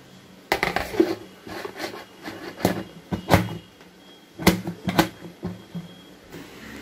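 A metal lid clanks onto a vessel of uzhunnu vada batter in a home kitchen, with several sharp, close clinks and knocks spread out over a few seconds against quiet room noise.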